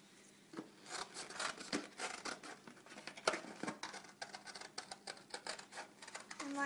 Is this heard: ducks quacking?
no